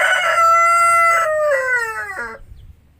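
A Rhode Island rooster gives a single loud, close crow that rises, holds and trails off over about two seconds, with no talking.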